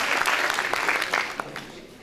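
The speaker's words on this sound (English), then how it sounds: "You can give me the applause." An audience at a national public speaking contest applauds after a speech, a steady wash of many hands clapping close and fairly loud throughout the short stretch.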